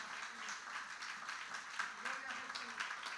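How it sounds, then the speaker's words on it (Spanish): A church congregation claps in applause for the Lord, a soft, fairly distant patter of many hands lasting a few seconds. "Eso merece un aplauso para el Señor."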